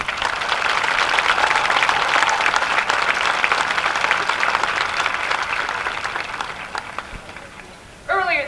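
Sustained, dense applause from a commencement audience cheering graduating high school seniors, fading slightly before a voice cuts in at the very end.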